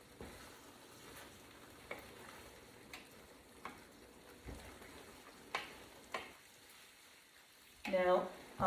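Food being stirred in a frying pan while it cooks, giving repeated scraping strokes about once a second over a steady soft sizzle, with a brief louder clatter near the end.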